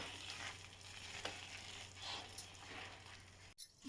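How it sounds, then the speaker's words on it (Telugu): Amla candy mixture sizzles in a pan while a spoon stirs it, a steady close frying hiss with soft scraping strokes every second or so. "ఇలా మధ్య మధ్యలో కలుపుతూ ఉండాలండి"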